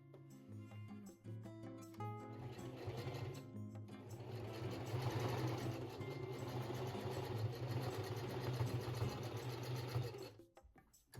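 A Singer Heavy Duty sewing machine stitches through blue jeans denim, a loud steady mechanical whir with rapid needle clatter running continuously for about ten seconds before stopping, with no talking.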